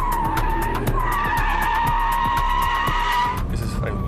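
A Porsche 911 Carrera 4S with all-wheel drive slides sideways in a drift, its tires letting out a loud, sustained squeal over the engine's drone before the skid trails off near the end.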